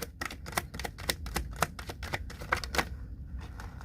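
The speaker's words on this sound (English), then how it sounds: "And I'm going to pull some cards here" Cards being pulled and shuffled from an angel card deck: a rapid series of crisp, close flicks and riffling snaps, fairly quiet, with a brief pause near the end and no talking.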